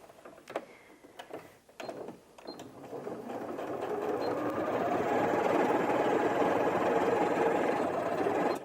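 A Janome 230DC sewing machine stitches through four folded layers of fabric, starting with a few handling clicks and knocks, then a steady, close mechanical whirr that builds and holds to the end.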